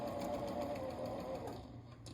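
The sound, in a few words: sewing machine back stitching fabric for pillow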